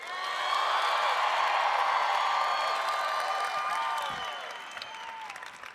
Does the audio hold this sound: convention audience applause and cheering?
yes